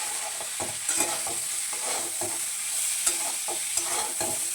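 Peas and raisins are stirred and fried for fried rice in a pan, a steady close sizzle broken by repeated scraping strokes of the spatula, with no voices.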